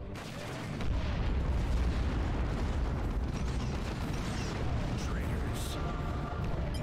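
Grenade blasts in the video game Dawn of War 2 merge into a loud, sustained rumbling roar of battle that holds steady for several seconds, with voices speaking faintly beneath.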